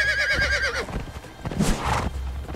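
In the video game Conan Exiles, a horse gives one loud, wavering whinny, followed by a few hoof clops and thuds against a low steady background hum.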